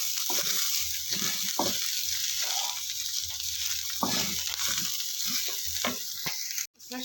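Finely chopped green chillies sizzle and fry in a pan while being stirred, a continuous crackling hiss broken by scraping stir strokes, with a brief drop near the end.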